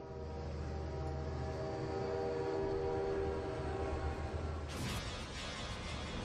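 A train rumbles steadily past, with a low continuous roll and a sustained tonal drone resembling a horn, heard from a played video, then a brief brighter noisy burst near the end; no talk.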